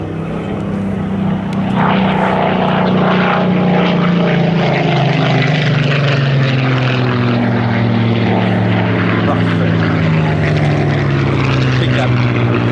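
A Grumman F8F Bearcat propeller fighter flies at the Duxford airshow, its loud, steady engine drone slowly dropping in pitch as it passes, while a commentator talks over it.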